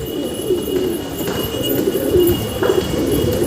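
Pigeons coo in a steady low murmur, several birds overlapping in soft repeated calls close by, with a faint brighter chirp cutting in now and then.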